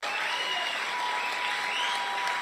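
Audience applause at a Donald Trump campaign rally in New Hampshire, an even wash of clapping from a crowd heard at a distance, steady and unbroken with no voices on top.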